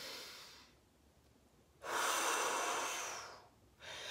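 A woman doing an abdominal breathing exercise draws in a long, deep, audible inhale, bracketed by quieter breath sounds before and after; no talking.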